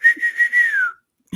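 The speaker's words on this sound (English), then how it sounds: "I could barely whistle." A person gives a short, faint whistle, one thin tone that wavers in pulses and then glides downward, alone in a quiet room and close by.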